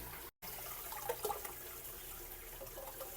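Tap water runs steadily over aquarium plant substrate as it is rinsed clean, a continuous close splashing rush broken only by a brief dropout near the start.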